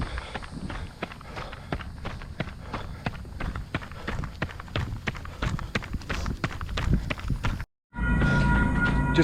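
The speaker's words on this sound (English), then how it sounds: "Just beat the train, thank God." A train runs past on nearby rail tracks in humid summer weather while a runner jogs alongside. Rapid, uneven footfalls and rumbling fill the stretch before a brief dropout, then a steady loud roar resumes.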